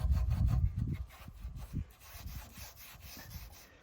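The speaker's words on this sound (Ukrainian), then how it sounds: "Для цього ми беремо тряпочка, така матерія. І отакими рухами ми починаємо втирати." A cloth rubs oil-wax into a wooden pool deck in repeated close swishing strokes, louder at first and then softer, with no talking.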